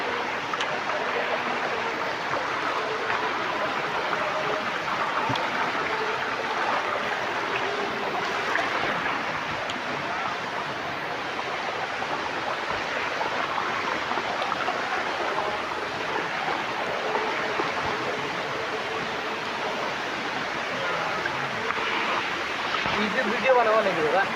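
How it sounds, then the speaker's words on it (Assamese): Akashi Ganga, a mountain stream running between rocks and boulders, rushes in a dense, constant roar that stays steady and fairly loud throughout, with no voices over it. "পাহাৰৰ মাজে মাজে শিলৰ ফাকে ফাকে বৈ আহিছে এই আকাশীগংগাৰ জুৰিটি"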